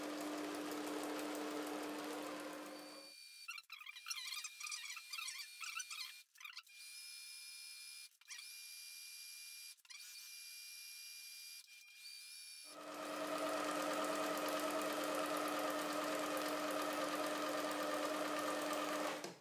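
A sewing machine zigzag-stitches high-tenacity textile to secure the halyard-point strap on a scale-model IMOCA yacht's rigging. Steady, close mechanical whirring runs at the start and end, with a quieter, higher stop-and-start stretch in between.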